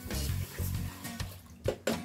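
Water is poured into a pot holding rice for seasoned yellow rice, a series of splashy gushing pours with brief pauses between, close and with no talk.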